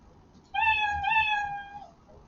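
A cat meow sound effect played back by a Scratch program on a computer: one clear, drawn-out tonal meow of about a second and a half, close and alone over faint background hiss.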